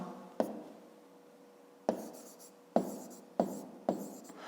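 A pen scratches out numbers in a notebook during a fifth-grade math exercise, five short separate strokes spaced about a second apart, close and quiet, with no talking.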